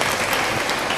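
An audience at an Islamic religious gathering bursts into loud, dense clapping for about a second, a close, steady patter with no voices heard.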